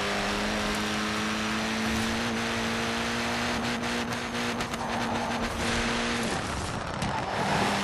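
A Ford #14 Rahal Letterman Lanigan Racing GRC Fiesta rally car in Forza Horizon 4 holds a steady high engine drone near and loud, then the pitch breaks and shifts as it changes gear and slides late on.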